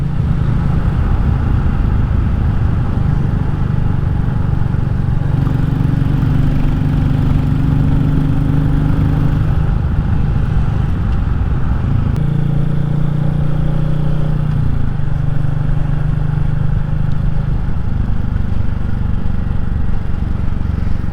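A Royal Enfield Classic 350 motorcycle engine drones steadily at about 4,000 rpm and 50 mph on country lanes, heard close up with constant wind and road rush and slight shifts in pitch.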